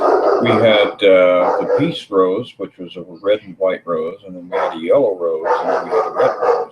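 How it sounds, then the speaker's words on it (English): A puppy greets a man with faint yips and barks in the background, mostly buried under close, continuous talking in the foreground. "if you can hear in the background there, that's the puppy greeting the male person."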